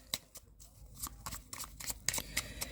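Tarot cards are given a final shuffle, producing a quick run of close, soft riffling and slapping card sounds in short bursts, quiet and without talk.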